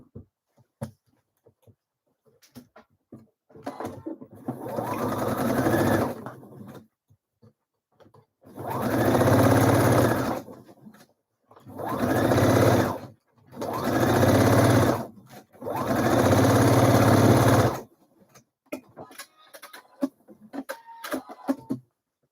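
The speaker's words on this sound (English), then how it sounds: "all I'm going to do is just go over the same stitching line that I've just created along here to sew that in place" A sewing machine runs over a seam on a Frida blouse in five close, loud bursts of steady stitching, each a few seconds long and separated by pauses, with small handling clicks between runs and no talking.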